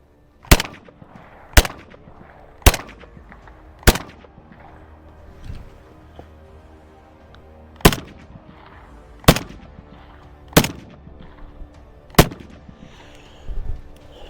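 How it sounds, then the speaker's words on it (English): Single shots from an Egyptian Hakim 8mm Mauser rifle on an outdoor range, about eight sharp, loud reports spaced roughly a second or more apart, each with a short echo. "let's actually fire some rounds of this baby out here on the range today"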